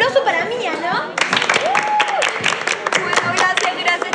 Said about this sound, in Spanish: Bueno, chicas, un aplauso para Mía